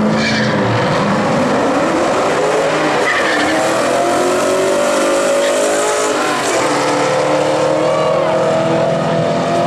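A car spinning its tires at a drag strip, loud sustained tire screech with a revving engine rising and falling over nearly ten seconds, close and harsh, a few faint voices barely present.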